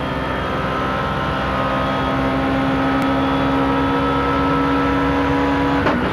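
Touring cars, including BMWs, race at Paul Ricard in the 1995 French Supertourisme series, a loud continuous engine roar with a steady high whine, swelling slightly near the end as a car brakes hard for a corner.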